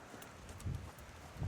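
Horse hooves clip-clop on an arena surface during a canter-to-trot transition, a few soft, close thuds in uneven rhythm under faint background noise.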